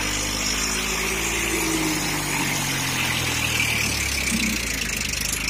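A Powertrac tractor engine runs steadily and close by, a continuous mid-pitched diesel drone with no speech over it.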